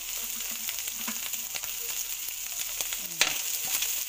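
Garlic and ground pork fry in a pan with a steady, close crackling sizzle and a few scrapes of stirring throughout.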